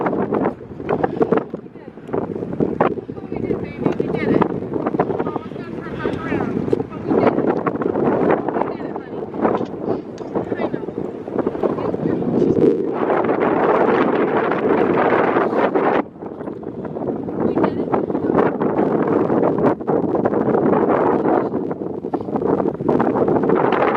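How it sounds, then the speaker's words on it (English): Strong gusting wind on a Sahara sand dune summit at Erg Chebbi, Morocco, buffets the microphone with loud, roaring bursts that rise and fall throughout, a voice faintly present beneath it. "it's very windy"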